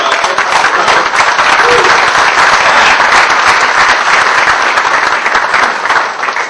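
A large conference audience at SharePoint Conference Perú 2010 bursts into loud, sustained applause and clapping, a thick continuous roar of hands that tapers slightly near the end.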